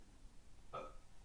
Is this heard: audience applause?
no